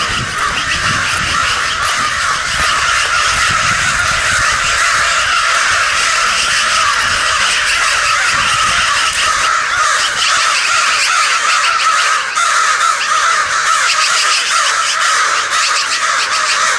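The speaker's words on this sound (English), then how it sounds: "They're just mobbing another crow" A flock of crows caws loudly and continuously while mobbing another crow outdoors, the harsh overlapping calls forming a dense, agitated chorus that holds for the whole stretch.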